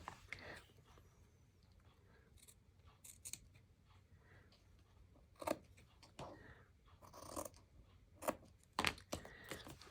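Scissors trim fabric for a binder journal cover in a quiet room, with irregular crisp snips and crunchy cuts in short bursts, close up and sparse at first, then busier toward the end.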